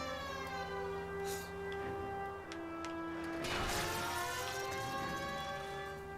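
A police car siren in the video game LA Noire wails loudly and steadily with rising and falling tones, joined by a brief crash midway.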